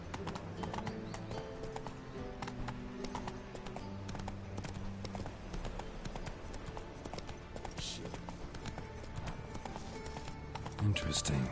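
Roach, the horse in The Witcher 3, gallops with a steady rapid clip-clop of hooves under game music and a spoken voice, ending in a louder burst near the close.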